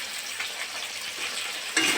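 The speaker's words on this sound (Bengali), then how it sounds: "আলুগুলো ভালো করে ভেজে নেব" Potatoes frying in hot oil in a pan after fish, seasoned with turmeric and salt, give a steady close sizzle and crackle that jumps louder near the end as the pieces are stirred.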